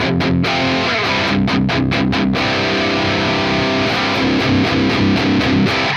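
An electric guitar plays a metal riff through an amp's lower-gain, crunchy BE channel with the gain at 4, loud and close, with tight palm-muted chugs and sharp staccato stops between sustained distorted chords.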